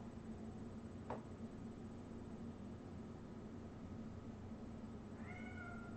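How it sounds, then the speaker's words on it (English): A cat gives a single faint, rising meow near the end, preceded by a brief chirp-like sound, over a steady hiss of background noise. "You guys want to say hi to the cat?"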